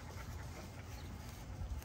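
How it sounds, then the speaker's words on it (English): An XL Lilac Tri Bully puppy pants steadily and rapidly, close up, in a continuous breathy rhythm with no talking. "Very happy dog."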